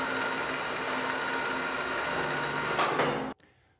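A homemade backyard elevator hoist motor whirs steadily and mechanically as it runs up, then cuts off abruptly after a final strained clatter, leaving near silence.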